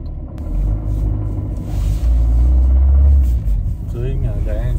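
A car engine rumbles from inside the moving car as a loud, deep, steady drone that swells slightly in the middle, with a person talking over it near the end.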